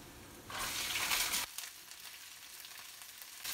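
Zucchini and bean sprouts with garlic stir-frying in a wok: a loud hiss surges for about a second, then drops to a soft, close sizzle with light stirring scrapes and no talk.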